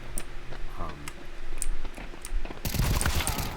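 Rapid automatic gunfire from the shooter game Crysis 2 Remastered erupts as a dense, loud burst in the last second, after softer scattered clicks and ticks.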